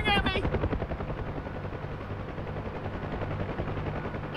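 Rapid automatic gunfire in a combat flight simulator, dense crackling bursts over a constant rotor-like drone, loud and continuous through the whole stretch.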